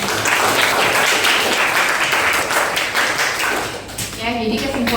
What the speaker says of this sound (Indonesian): Ya, tepuk tangan dong untuk